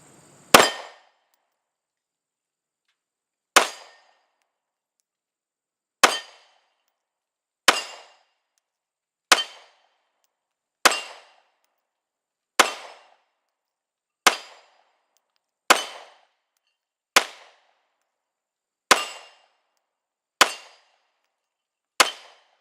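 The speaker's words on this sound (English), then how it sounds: "All rounds down range." Glock 19 Gen 5 pistol rounds striking steel targets at a shooting range: about thirteen sharp cracks, each with a metallic clang, fired at a slow, steady pace with a short ring and silence between shots.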